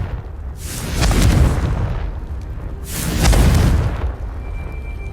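Two deep booming blasts from the Confringo spell in Hogwarts Legacy, each swelling and rumbling for about a second before fading, loud and close, with no talk.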